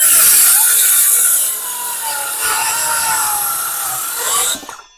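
A cordless Vitals Master ARg 18165 circular saw whines loudly as it cuts through wood in one continuous pass, the blade winding down abruptly at the end.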